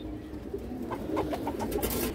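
A large silver female pigeon coos softly a few times in a short run of low, rounded calls, fairly close, over a steady background hum with no talking.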